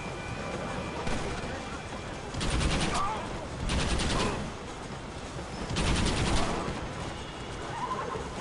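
Gunfire in Red Dead Redemption as rebels are shot, several rounds of bursts swelling and fading over a continuous game background, with a horse whinny mixed in.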